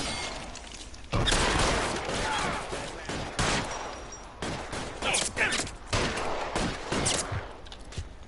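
Tommy gun fire in a shootout in the video game L.A. Noire: loud bursts of rapid automatic gunfire broken by short pauses, up close and echoing, with shouted voices between the bursts.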